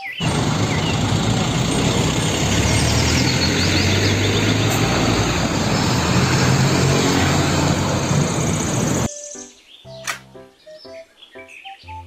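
A toy dump truck gives off a loud, continuous electronic engine rumble with chirpy effects layered on top for about nine seconds, then it stops and a few faint clicks and tones follow.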